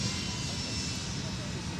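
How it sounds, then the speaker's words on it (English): A Delta Airbus A350-900 airliner taxis at Minneapolis–St. Paul airport, making a steady, faint, distant jet-engine rumble and whine. A voice talks over it. "There's 1484 Heavy with the Airbus A350-900."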